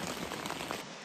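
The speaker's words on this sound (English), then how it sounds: "So very clearly raining." Rain falls steadily at a wilderness campsite, a dense close hiss of drops pattering on surfaces with no other sounds.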